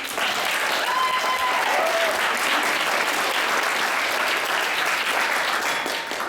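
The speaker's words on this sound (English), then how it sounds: "Let's give a round of applause for the newlyweds." Sustained applause from wedding guests for the newlyweds, steady and loud throughout, with a faint whistle briefly rising above the clapping.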